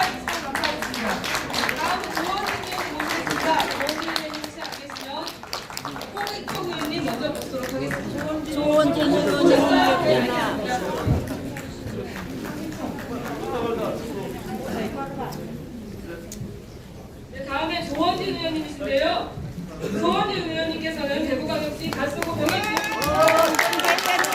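Applause from an audience at an award celebration for a lawmaker's national audit honor, a sustained wash of clapping mixed with crowd chatter and voices, fairly loud and continuous throughout.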